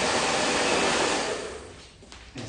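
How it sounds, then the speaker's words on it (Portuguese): Hair dryer blowing steadily on hair, a loud broadband rush that fades and drops in level toward the end before a brief flare. "eu estou secando o cabelo com o secador"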